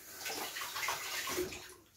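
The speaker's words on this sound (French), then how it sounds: "ensuite, attendez, je mets la vinaigre." Vinegar poured into a fish marinade in a home kitchen, a short continuous liquid splash and trickle heard close and fairly soft, with no talking over it.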